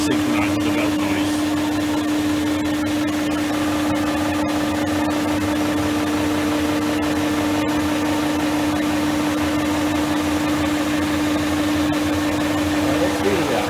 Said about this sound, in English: we've just got the belt noise. That's purely the belt